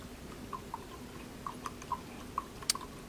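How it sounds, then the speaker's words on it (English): Paintbrush swished and rinsed in a cup of water, scattered small drips and light taps at an irregular pace, close and quiet with no talking. "now I can rinse my brush."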